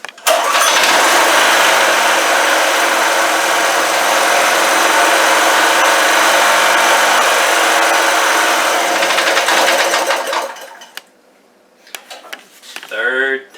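A small engine at half choke is cranked and briefly fires, giving a loud, continuous buzzing roar for about ten seconds before cutting out, followed by quieter rattling and a short burst of speech.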